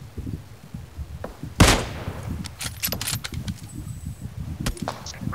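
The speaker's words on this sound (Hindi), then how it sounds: "ये क्या फायरिंग हो रहा" Gunfire in the BGMI battle royale game: one sharp, loud shot stands out, followed by a scatter of fainter, more distant shots over a steady low background rumble.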